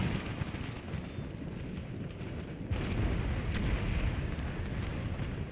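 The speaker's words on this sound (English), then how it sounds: "General's bodyguard being hit with cannon fire directly from the walls." Cannon fire from fort walls in Empire: Total War, a sustained rumbling roar of distant battle booms that swells louder midway, continuous and without talk.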